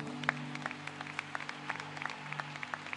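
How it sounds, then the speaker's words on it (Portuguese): A church congregation at an evening evangelical conference service claps in scattered, uneven bursts. The applause sounds faint and distant rather than loud and sustained. "Aplauda ao Senhor Jesus"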